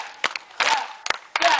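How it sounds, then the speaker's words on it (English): A concert audience in Concord, North Carolina claps slowly together, a few spaced rounds of massed hand claps from a nearby crowd, with a voice talking over them. "I want everyone to start slowly clapping in sequence"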